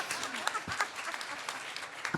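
A festival audience at a television series event applauds, a steady patter of many hands clapping at moderate loudness for about two seconds.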